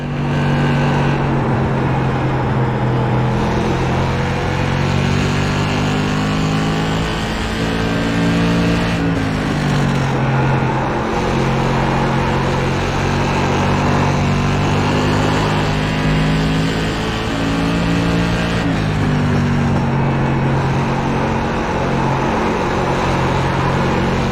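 Modified race car engines roar steadily through qualifying in a racing video game, a loud continuous drone with shifting pitch as the car upshifts and downshifts every few seconds, with no talking throughout.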